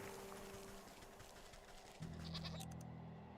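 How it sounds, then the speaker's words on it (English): Goat bleating in the video game Wytchwood, a drawn-out wavering bleat rising in the second half over a steady background of game ambience and music. "Here's the goat."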